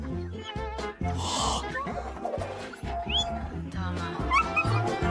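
A cartoon dog barks, yips and whimpers in short bursts amid lively background music, with character voices talking over it.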